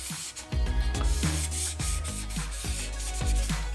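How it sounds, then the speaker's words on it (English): A 2000 grit sponge sanding car paint on a BMW M3 G81 Touring build: a series of rhythmic, gritty rubbing strokes, roughly one or two per second, close and fairly loud, with no talk. "just a 2000 grit sponge to remove any imperfections, to surface any problems."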